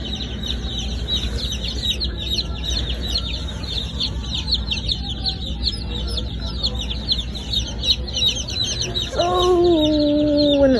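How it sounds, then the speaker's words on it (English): Chickens cluck and chirp steadily in a farm store's poultry area, a continuous busy flock chatter with a louder, closer call rising near the end. "So here are the chickens."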